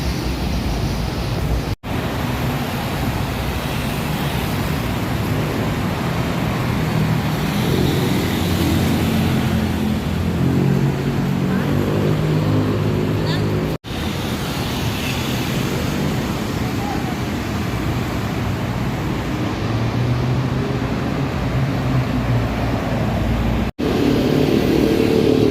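Traffic of cars passing on a city road beside ongoing roadwork, a continuous loud rushing roar with swelling engine passes, and a voice talking over it.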